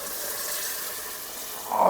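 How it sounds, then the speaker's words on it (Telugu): Hot water pours steadily into a pot of mutton curry with a continuous hissing rush that swells louder near the end; no one speaks. "ఇప్పుడు వేడి నీళ్ళు ఇందులో వేస్తున్నా"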